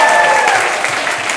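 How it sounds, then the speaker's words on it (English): Dense audience applause at a talent show, loud and continuous across the moment, with a faint tone lingering underneath. "Give me a round of applause for making mistakes."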